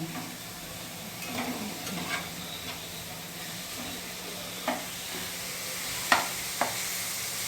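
Sliced onions frying in a pan for dhaba-style chicken, a low steady sizzle with occasional stirring clinks and scrapes, fairly faint and close.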